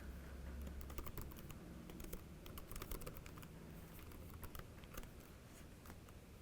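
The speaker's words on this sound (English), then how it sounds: "I can just start typing and say," Fingers type on a computer keyboard, a fast irregular patter of close, crisp key clicks continuing steadily throughout, with no talking.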